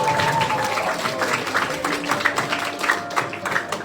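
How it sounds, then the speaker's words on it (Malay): An audience at a school appreciation ceremony claps steadily, a dense patter of many hands held at an even level throughout. "Beri tepukan semangat lagi kawan-kawan."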